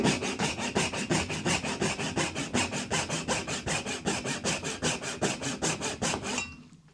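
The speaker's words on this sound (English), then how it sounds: "Let's go on a rip cut, as if we were doing dovetails." Rhythmic back-and-forth strokes of a dovetail saw ripping along the grain of wood, around two dozen even, close strokes in quick succession before the cut stops.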